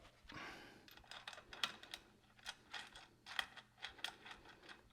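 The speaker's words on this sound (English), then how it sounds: "Tighten these 4 bolts up." Four bolts are tightened by hand on a FUSO overland truck build, giving a close run of quick metallic clicks and ratchet-like ticks in uneven bursts at moderate volume.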